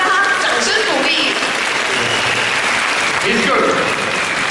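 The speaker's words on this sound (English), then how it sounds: "please give him an applause" An audience applauds a speaker at a bilingual presentation on anti-aging products, a dense steady wash of clapping lasting several seconds, with a voice talking over it.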